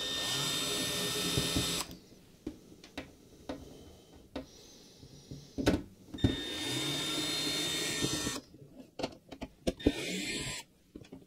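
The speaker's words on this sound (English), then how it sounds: "this is actually a screwdriver or screw gun, a powered screw gun. So we're going to use that to take the screws out" A powered screw gun backs screws out of a Topshak NPS605W 60 V 5 A DC power supply. The tool whirs in two sustained bursts, and short clicks and handling knocks fall between them. No one speaks.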